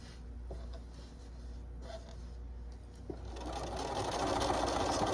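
A sewing machine stitching a fabric trick-or-treat bag, a quiet motor whir that starts low and rises into a faster, louder continuous stitching buzz, with a couple of small clicks as the fabric is handled.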